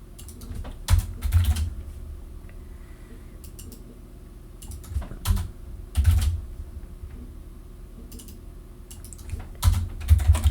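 Keystrokes on a computer keyboard as network switch configuration commands are entered, arriving in short bursts of clustered clicks separated by pauses, close and fairly clear over a low room hum.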